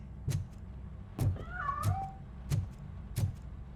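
A cat meows once in the video game Robocop: Rogue City, drawn out and wavering, amid a steady rhythm of soft thuds repeating roughly every two-thirds of a second.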